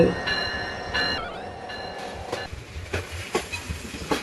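A train in the video game Train Simulator Bangladesh rumbles and clatters away from Chattogram railway station, with a brief horn-like tone at the start and rhythmic clicking of wheels building toward the end.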